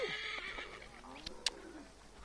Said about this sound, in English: So, we're going to need our horse.